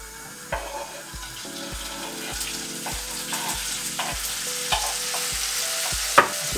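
Garlic and sausage frying in hot oil in a pan, with a loud steady sizzle and rhythmic stirring scrapes at regular intervals, plus a sharp clink near the end.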